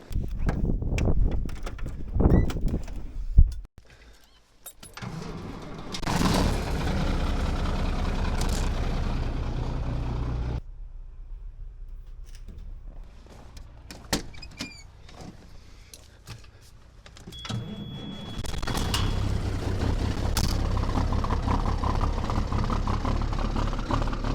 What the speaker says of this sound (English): let's go fire up some trucks